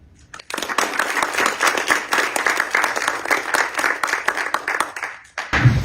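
An audience applauds a guest speaker in Monaco's National Council, with dense, steady clapping that starts abruptly after a brief pause, holds strong for several seconds, and then breaks off near the end.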